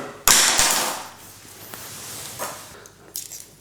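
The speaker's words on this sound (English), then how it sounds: "Just peel your garlic and you just give it a good old squash" A peeled garlic clove squashed firmly in a kitchen, giving a sharp crunching crack near the start, a second crack soon after, then softer scraping and a brief squish later on.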